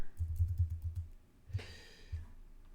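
Keys on a computer keyboard are tapped in a quick run of soft, close keystrokes, then a pause and a couple of isolated presses.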